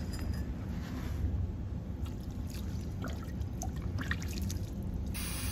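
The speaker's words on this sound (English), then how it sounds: "just take yourself some water and rinse that all off" Water poured over a car battery to rinse off baking soda, a steady splashing trickle running continuously at close range with no talk.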